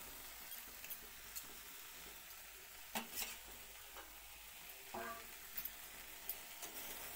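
Fried potatoes being stirred into a spice masala in a pan, a quiet continuous sizzle broken by several sharp scraping strokes of the spoon, no talking.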